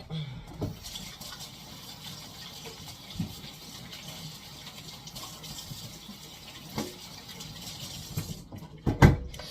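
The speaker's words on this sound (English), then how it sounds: "Let me wash my hands real quick." Hands washed under a running kitchen tap, a soft steady splash with occasional louder gushes and clunks near the end, fairly quiet and close.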